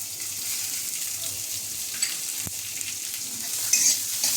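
Chopped onion sizzles gently in oil with mustard seeds over low heat, a soft steady frying hiss with occasional scrapes and taps as it is stirred.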